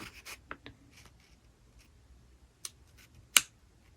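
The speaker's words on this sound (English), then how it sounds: "take one of the corners and fold it up to the red line" Notebook paper is folded at one corner into a square, making light papery rustles and crisp creasing clicks with a few short sharp snaps, close and alone without talking.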